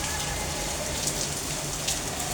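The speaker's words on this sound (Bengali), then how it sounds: "এত জোরে বৃষ্টি আসছে যা বলার মতো না।" A downpour of heavy rain keeps up an even, loud rushing hiss with fine drips and splashes throughout, with no voices.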